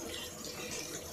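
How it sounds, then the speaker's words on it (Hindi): Water poured into besan (gram flour) batter to thin it, a steady soft hiss of pouring liquid, close and quiet, with no talk over it. "हाँ थोड़ा सा पानी और, मतलब एकदम पतला करना है।"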